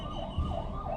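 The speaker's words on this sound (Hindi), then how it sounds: "बिल्कुल निर्बाध वो एम्बुलेंसेस की आवाजें आपको सुनाई दे रही हैं।" Ambulance sirens at the scene of the Ahmedabad aircraft crash wail up and down in a rising and falling pitch over a low traffic rumble, heard at moderate distance with no speech.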